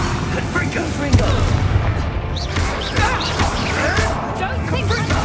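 A Confringo spell explosion in Hogwarts Legacy, a sudden burst amid dense combat noise with crashes and impacts, layered under in-game character voices speaking throughout.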